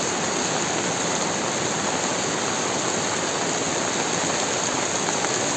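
Heavy rain pours down in the cool hillside village of Gunungsari, Kopeng, among gardens of plants and cacti. A dense, steady roar continues without a break, loud and close, with no voices.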